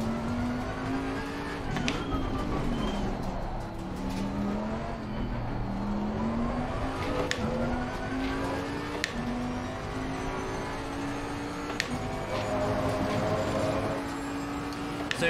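Race car in Assetto Corsa Competizione accelerating down the straight, engine pitch climbing through repeated gear shifts with brief dips between, steady and close from the cockpit.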